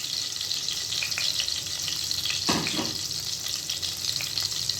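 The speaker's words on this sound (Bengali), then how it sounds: "খিচুড়িটা করার জন্য আমি প্রথমে কড়ায় 2টো শুকনো লঙ্কা দিয়ে দিলাম" Two dried red chillies and whole cumin sizzle steadily in a hot kadai for khichuri, a continuous close frying hiss with a brief stir or clatter in the middle.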